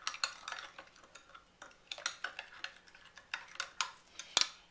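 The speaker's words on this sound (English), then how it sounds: "you take your warm water and you sprinkle your yeast over it. And then you put your sugar. And I'm just going to stir it a little bit." A spoon stirs sprinkled yeast and sugar into warm water, making quiet, irregular clinks and scrapes against the bowl in a steady run of light taps, close and soft, with no talking.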